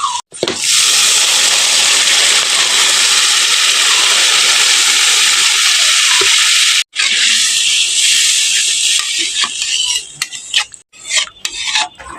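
Water poured into spices frying in hot oil for a Bengali fish curry, giving a loud, sustained hiss and sizzle that breaks off briefly, then resumes and fades into scattered stirring and utensil clatter.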